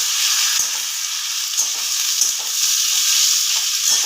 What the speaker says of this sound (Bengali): তেলটা গরম হয়ে গেছে এখানে আমি সামান্য একটু হলুদ গুঁড়ো দেবো এবার দিয়ে আলুগুলোকে আমি ছেড়ে দেব